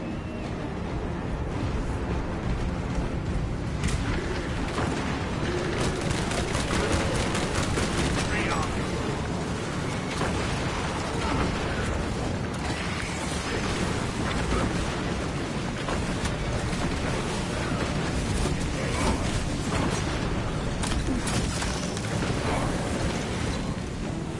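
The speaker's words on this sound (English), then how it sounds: "The Titan launches its missiles" Titan missile launches and explosions in Space Marine 2, heard as a dense, continuous roar of rumbling blasts and crackling impacts that lasts throughout at a steady loud level, with voices talking underneath.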